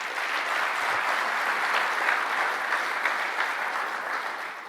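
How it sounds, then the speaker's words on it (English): A conference audience at a summit general session applauds the sponsors with steady, dense clapping. The applause holds evenly for the whole stretch and eases slightly at the end. "So let's give them a round of applause."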